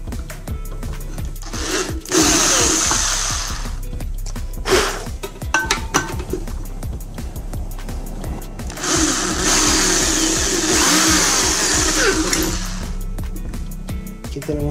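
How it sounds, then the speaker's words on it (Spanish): A power drill bores holes into a can, loud whirring bursts that start and stop with rattling metal chatter, close up, with some background voice. "ahora en el bote vamos a marcar en donde vamos a perforar nuestros agujeros"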